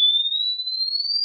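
A steady, pure high-pitched test tone plays through a JBL 4344 speaker's horn driver under repair, loud and continuous with no other sounds or voices.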